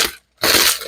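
Parchment paper crumpled by hand for a chocolate pie crust, a loud, close crackling rustle in two bursts separated by a brief silence.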